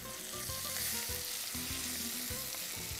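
Ginger, garlic and tomato sautéing in a pan: a dense, loud sizzle holds throughout, with repeated stirring scrapes and knocks.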